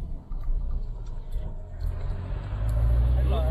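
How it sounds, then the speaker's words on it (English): An old Can-Am Ryker three-wheeler pulls up nearby, its engine a steady low rumble that swells and grows louder toward the end, with faint background noise and no clear talk. "Here he is right here. Pulling up in the old Can-Am."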